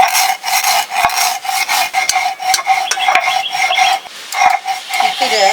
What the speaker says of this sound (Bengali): মিষ্টি আচারের জন্য আবার পাঁচফোড়ন বাটা হচ্ছে